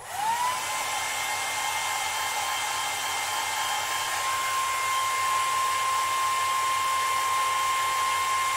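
Morphy Richards hair dryer blowing on freshly painted rippled sycamore wood, a steady, loud whine with a constant high tone that starts at once and holds for the whole stretch.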